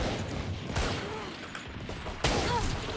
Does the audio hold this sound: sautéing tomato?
no